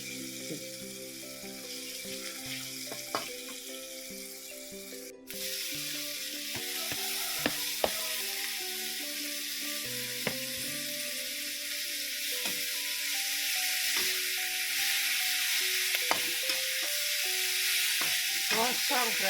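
Salted peda fish frying in a pan of hot oil, a steady close sizzle that swells after a brief knock, with scattered clinks and faint background music.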